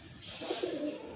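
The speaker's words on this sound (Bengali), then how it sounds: "এগুলো সব ওড়ানো পায়রা আছে, রেজাল্টেড ওড়ানো আছে।" A Pakistani flying pigeon gives a single soft, low coo lasting under a second, close and fairly clear against a steady background hiss.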